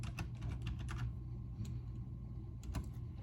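Typing on a computer keyboard, a run of soft irregular clicks close by over a constant low hum, with a brief pause near the middle and no talk.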